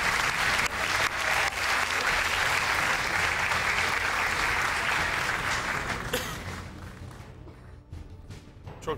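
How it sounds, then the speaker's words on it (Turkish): A studio audience at a televised dance competition bursts into loud, sustained applause that holds steady for several seconds, then thins out and fades to scattered claps near the end. "Yarışmacılar isterseniz alkışlayın."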